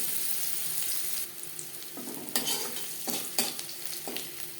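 Onions frying in a little oil in a pan, with a bright steady sizzle broken by a few scraping stirs, close and moderately quiet, no talk.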